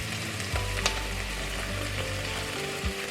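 Onion and leek fry in a pan with a loud, continuous close sizzle, stirred now and then with soft scraping taps.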